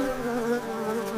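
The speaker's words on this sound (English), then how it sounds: "Here comes the busy bee." A bee buzzes steadily and loudly for just over a second, a close, continuous insect drone with no voices over it.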